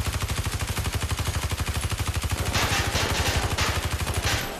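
Rapid automatic gunfire from a robot gun turret in Watch Dogs 2, a steady stream of closely spaced loud shots running the whole time with a harsher burst near the end.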